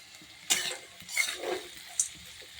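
Spinach stir-frying in a wok over high heat, with a few scraping stirs of a metal spatula against the pan, faint sizzling underneath, close and fairly quiet.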